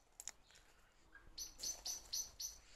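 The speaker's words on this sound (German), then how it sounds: "Und da ist natürlich auch die Amsel." Eurasian blackbird calling in a garden, faint and distant, with a few sharp high chirps early and then a run of four or five bright repeated call notes, alone with no talk.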